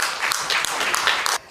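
Applause from an audience at a book launch celebration held at an arts venue, greeting a museum director as he is invited to speak; a short, dense burst of clapping that cuts off abruptly near the end.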